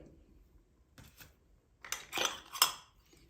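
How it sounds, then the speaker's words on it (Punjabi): A spoon stirs grated carrot raita in a bowl, with a few soft clinks followed by denser scraping and tapping against the bowl that grows louder toward the end. The sound is close and no one speaks. "ਸਾਰੀਆਂ ਚੀਜ਼ਾਂ ਨੂੰ ਆਪਾਂ ਚੰਗੀ ਤਰ੍ਹਾਂ ਮਿਕਸ ਕਰ ਦੇਵਾਂਗੇ"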